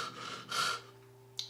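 A voice imitates heavy, drawn-out breathing in two airy huffs, close and soft over a low steady hum, with a small click at the end.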